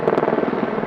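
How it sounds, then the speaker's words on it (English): A firefighting helicopter works over a wildfire with a loud, close, steady rotor roar and a fast throbbing beat, with no talking. "Helicopters kept up the fight in the air"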